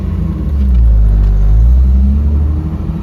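A Jeep engine revs hard and accelerates, a loud, steady low rumble that holds strong for about three seconds with slight rises in pitch, close by and without any talking.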